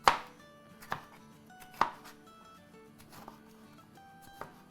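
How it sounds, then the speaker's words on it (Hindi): A knife chops a green chili on a board, about six sharp knocks spaced irregularly, the first and third loudest, close and alone with no one talking. "और एक हरी मिर्च काट लेते हैं।"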